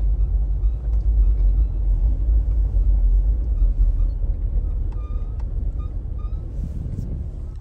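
Toyota Land Cruiser with a 4.5L V6 rolling slowly into a Total Energies petrol station in Kenya, a steady low engine rumble throughout with faint high chirps and clicks near the end.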